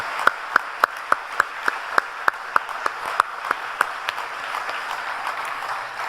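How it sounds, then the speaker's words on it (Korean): A church congregation at a Friday overnight worship service claps in a steady unison rhythm, a dozen or so evenly spaced sharp beats that then dissolve into looser scattered applause, fairly loud and without talk. "아버지 하나님께 먼저 다시 한번 감사와 영광의 박수 올려드립니다"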